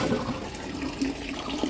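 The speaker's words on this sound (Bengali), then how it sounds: "এই মিষ্টি কুমড়ার বিচিটাকে আমি এখন ধুবো, ধুয়ে শুকিয়ে রাখবো" Running water splashes steadily while pumpkin seeds are washed, a short, continuous rushing flow at moderate volume with no voices.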